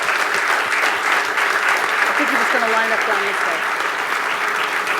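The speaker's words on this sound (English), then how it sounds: "Round of applause for the NHA Lifelines." Sustained audience applause at a history quiz bowl greets NHA staff members as they come on stage, steady and fairly close, with someone talking briefly over the clapping midway.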